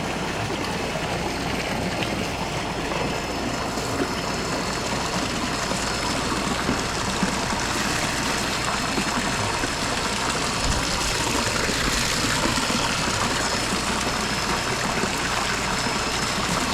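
An aerator pumping air into pond water for stocked fish gives a steady, loud, unbroken rush of bubbling and churning with a motor-like drone underneath, continuous throughout and with no talking.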